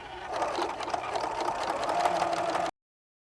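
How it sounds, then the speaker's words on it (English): A sewing machine runs a steady fast stitch, close and continuous, while top-stitching a fabric pouch, then stops abruptly. "So now I'm going to take and top stitch"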